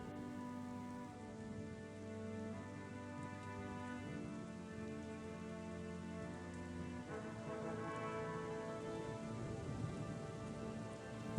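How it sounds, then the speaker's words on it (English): Rain falls in the video game Chronicles of Myrtana: Archolos, a faint, even patter that continues for several seconds over a low, layered ambient tonal background. "it is raining because it rains every friggin' day"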